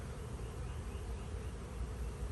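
Honey bees buzz around an apiary hive fitted with a newly added super, a dense, steady drone close to the microphone for the whole moment.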